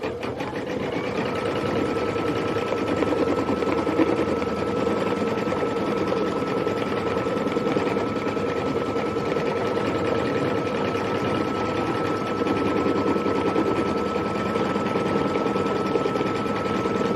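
A sewing machine stitches steadily through a Kimberbell Cup of Cheer quilt project, a continuous close motor whir with a constant hum that runs alone at even loudness with no pauses.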